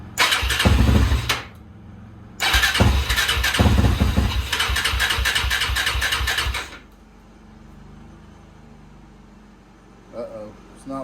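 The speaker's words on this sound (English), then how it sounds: "So key all the way over, pull the clutch in" A Suzuki LTR quad's engine cranks in a short loud burst, pauses, then churns loudly for several seconds, up close, before it cuts off to near silence with a little speech afterward.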